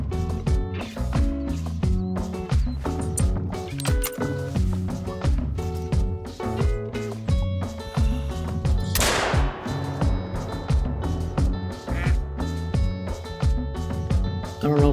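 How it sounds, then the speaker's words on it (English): A single sharp shotgun blast rings out in the hunting game Call of the Wild, standing out midway through steady game music and soft plodding footsteps. "We're gonna go with the shotgun."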